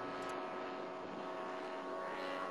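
A radio-controlled model airplane flies during setup and trim flights, its propeller engine a steady, faint drone heard from a distance throughout, with no talking.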